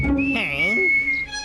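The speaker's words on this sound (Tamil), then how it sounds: "என்ன தைரியம் தான் விசில் அடிப்படா நீ." A cartoon character, a bear in funny clothes, gives a bright, sustained whistle with a wavering, swooping pitch, mixed with a voiced sound at the start, then trails off within about a second.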